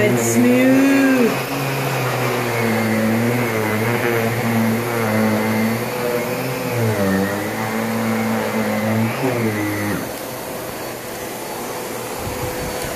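A Miele vacuum cleaner running on carpet gives a loud, steady motor whine with a wavering pitch as it is pushed back and forth, then drops to a lower hum near the end.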